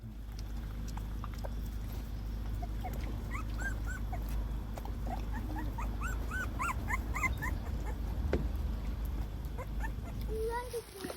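Several newborn puppies whimper and squeak in high, wavering little cries, near and fairly soft, over a low steady background hum.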